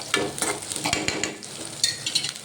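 Onions fry in a pan beside already-roasted peanuts, giving a steady close sizzle broken by the scrape and clatter of a spoon stirring at an uneven rhythm.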